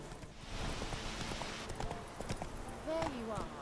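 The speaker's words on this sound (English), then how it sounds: "Horse, what are you doing? No, keep going," Horse hooves walking in the video game The Witcher 3, a steady clip-clop of hoofbeats over a faint background, with someone talking over them.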